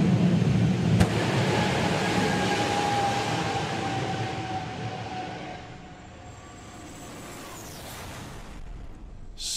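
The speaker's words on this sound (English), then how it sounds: "Martin Hill, Fire Force number 2 to open our afternoon session here at Dragstalgia" A nostalgia drag racer, Fire Force 2, makes a run at Santa Pod during a Dragstalgia event, a loud roaring engine that fades into the distance as it heads down the strip.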